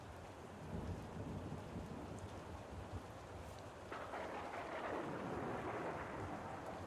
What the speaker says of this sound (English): Oh no, this rain has begun.